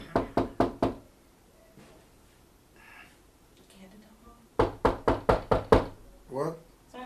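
Knocking on a door comes in two loud, sharp bursts, first four quick raps, then a longer run of about seven raps after a pause, with people talking quietly in between.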